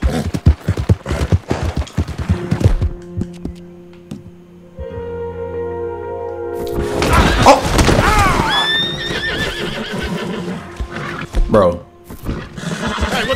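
A horse in Red Dead Redemption 2 whinnies loudly with a long, shaky neigh, mixed with hoof clip-clops and other game sounds; someone talks over parts of it.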